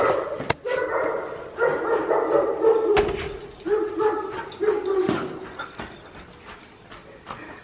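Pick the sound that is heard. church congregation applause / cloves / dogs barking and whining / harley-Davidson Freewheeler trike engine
dogs barking and whining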